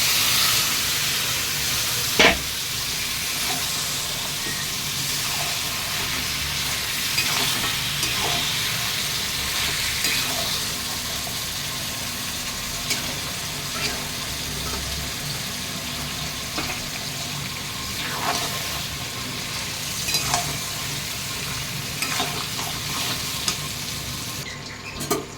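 Yogurt- and salt-marinated chicken pieces frying in cooked-down masala for homemade chicken kosha, a steady close sizzle running throughout with occasional scrapes and stirring clinks, no talking.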